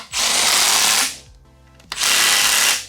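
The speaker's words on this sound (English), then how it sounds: "with the gun turned on medium, and me hitting them all like this" A power gun set to medium tightens oil pan bolts on a car, two loud close buzzing bursts about a second each with a brief pause between them.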